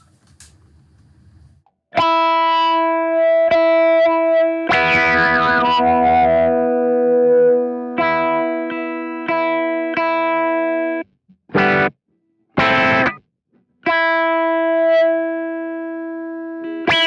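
An electric guitar runs through an auto-wah filter modulation effect, giving a sweeping, vowel-like tone. Sustained, ringing notes sound up close, with one brief sweeping swell in the middle and a few short stabs near the end.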